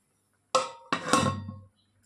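A lid set onto a vegetarian saucepan of boiling water with potatoes and peas: two quick clattering metal contacts a beat apart, then a short rattle settling down, close and fairly loud.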